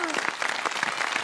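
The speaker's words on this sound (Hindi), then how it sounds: "तालियां बजा दे भाई।" A studio audience at an iftar television show for kids claps on cue, a brisk burst of many hands with voices faintly mixed in.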